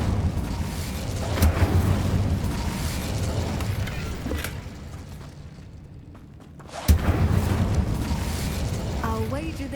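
Incendio fire spell from Hogwarts Legacy, a rumbling magical blast with booming low bursts that dips briefly into near quiet, then returns with a sharp hit and continued rumble, with no speech.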